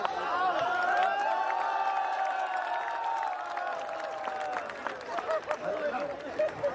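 An audience at a Hindi comic poetry gathering claps and cheers in a steady, loud wash that carries on throughout, with a voice ringing over it and the applause turning more patchy toward the end.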